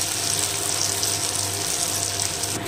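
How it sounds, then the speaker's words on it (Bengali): Tomatoes and onions fry in hot oil tempered with black cumin, giving a steady, close sizzle with a faint watery hiss running evenly throughout and no one talking. "এদিকে কালো জিরে ফোড়ন দিয়ে টমেটো আর পেঁয়াজ দিয়ে ভাজা ভাজা করে দিয়ে দেবো"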